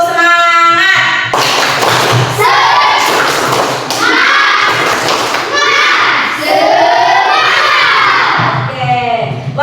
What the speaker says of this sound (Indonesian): terlebih dahulu kita berikan tepuk semangat dulu. Tepuk semangat.